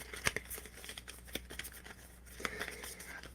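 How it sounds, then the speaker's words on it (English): Playing cards being shuffled by hand during a magic trick, a soft, faint papery riffling with small ticking snaps spread over a few seconds. "Right now, I take the cards back and I shuffle them."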